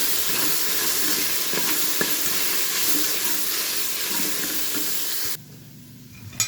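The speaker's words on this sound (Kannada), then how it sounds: "ಈಗ ನಾನು ಸ್ವಲ್ಪ ಇದು ಜಿಂಜರ್ ಗಾರ್ಲಿಕ್ ಪೇಸ್ಟನ್ನು ಹಾಕ್ಕೊಳ್ತೇನೆ" Ginger garlic paste fries in a hot pan while making mushroom biryani, giving a loud, steady sizzling hiss that cuts off abruptly near the end and leaves a quieter tail.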